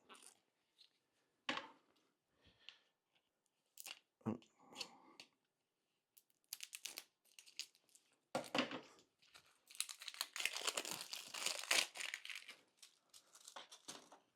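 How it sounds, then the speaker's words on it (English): Plastic packaging around a new rechargeable hair trimmer torn and peeled open by hand, with bursts of close, loud crinkling and ripping, sparse at first and then dense and continuous, with no talking. "It's wrapped in plastic. I need to open that up."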